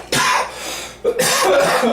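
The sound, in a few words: cough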